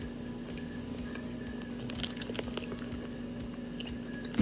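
Close, quiet chewing of a crunchy Great Value peanut and nougat bar, with irregular crunches and moist squishing bites over a low steady hum.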